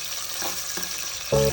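Shrimp and ginger frying in a pan, a steady sizzle with a couple of soft stirring knocks and a short sharper clink near the end, close up and without talk.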